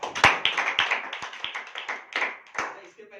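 An audience at a company sales presentation claps together in a brief round of sharp, close, uneven claps that gradually fade over about three seconds.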